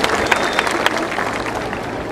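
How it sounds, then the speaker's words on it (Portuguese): Warm applause from an audience at a cantata event honoring a symphonic band from Taubaté, steady dense clapping sustained for about two seconds at moderate loudness. "uma salva de palmas bem calorosa"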